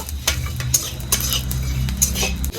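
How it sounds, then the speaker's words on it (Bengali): Whole spices such as fenugreek and coriander seeds being lightly fried in a kadai, with a steady low sizzle and several sharp metallic scrapes and clinks of a utensil against the pan, close by with no talk. "এগুলো আবার একটু ভেজে নেব কড়ার মধ্যে ছেড়ে দেবো হালকা ভেজে নেব"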